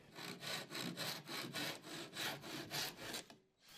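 A hand saw cuts a wooden slat with about eight steady back-and-forth strokes in an even rhythm, close and distinct, then stops abruptly.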